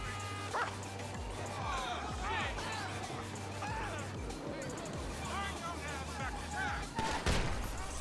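Chop the dog barks repeatedly in GTA Online, a string of sharp woofs and yips in game audio, with scattered gunfire and someone speaking over it.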